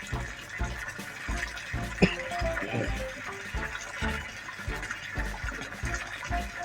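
Water pours into a biofloc fish tank while more drains out through an outlet, giving a steady splashing, gurgling flow up close, with a louder splash near the start.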